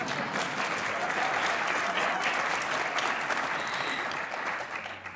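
Steady applause from an audience at a university award ceremony, a continuous even wash of many hands clapping at moderate volume for about five seconds, tapering slightly at the end.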